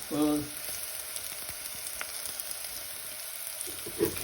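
Onion fries in a pan for a Goan ivy gourd and coconut dish, making a soft, continuous sizzle with a brief clatter at the start and a small knock near the end.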